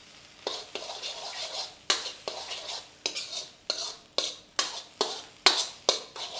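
A spatula scrapes and tosses fried rice around a wok in a steady run of about a dozen sharp, close strokes, each with a brief metallic rasp and faint sizzle, and no talking.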